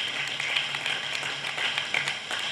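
An audience claps at a science awareness event in Tamil Nadu, a crowd's brisk, continuous patter of hands that holds steady for several seconds, moderately loud and without talk over it.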